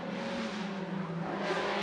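A road car in Macau Grand Prix road car challenge qualifying, 2023, drones along steadily with a continuous, fairly loud engine note that holds close throughout the short stretch, a faint tire hiss running beneath it.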